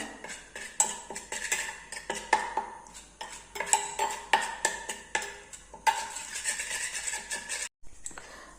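A spoon scrapes and clinks steadily in a small bowl while stirring a homemade tooth-cleaning paste, close and continuous with brief pauses; no talking.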